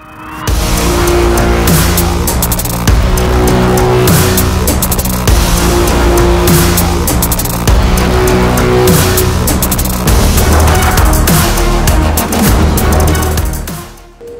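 A Belarus tractor's diesel engine roars steadily and loudly through a quarter-mile drag race start, a continuous rumbling drone with slight surges as it pulls away, with no talk over it.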